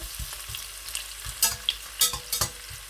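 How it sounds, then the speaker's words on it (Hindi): Onions frying in a pan until light brown, for black chickpea rice; a steady sizzle runs throughout with a few louder crackles and spatters near the end, close and alone with no talk. "प्याज को लाइट ब्राउन सा करूँगा"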